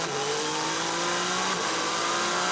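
Race cars at the 2016 6 Hours of Fuji WEC endurance race roar past in a continuous loud engine wash, with a steady high whine holding through the whole stretch.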